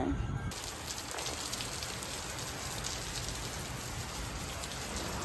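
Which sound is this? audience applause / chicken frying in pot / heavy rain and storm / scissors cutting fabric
heavy rain and storm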